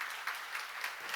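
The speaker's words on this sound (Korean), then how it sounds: "빨리 박수요." Church congregation clapping during a sermon, a brief, soft, steady patter of applause from a distance.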